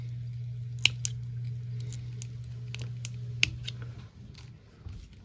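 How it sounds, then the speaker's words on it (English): Scissors snip and trim material while a squid fly for fluke is tied. Several sharp, quiet clicks and cuts are spread irregularly over a low steady hum, and no one speaks. "I actually take my scissors and I run it right along the bottom. Cut a nice slit in it"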